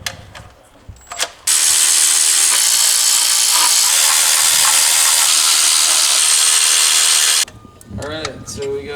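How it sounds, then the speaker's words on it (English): A power tool buzzes loudly and steadily for about six seconds, removing heat shield bolts during an SR20DET turbo swap, with brief knocks before and a voice after. "So start taking these heat shield bolts off, and then take this catch can off."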